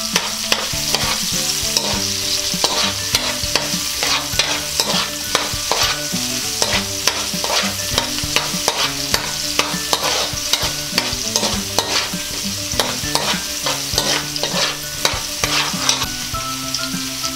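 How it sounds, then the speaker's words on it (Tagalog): Red onion is stirred in a hot frying pan for paksiw na bangus with lemongrass, giving rhythmic scraping utensil strokes over a steady sizzle, close and without voices. "Ngayon naman po ay isusunod na natin ang ating sibuyas na pula. Hahaluin na naman natin."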